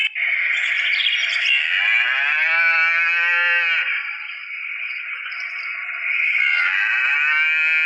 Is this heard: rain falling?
no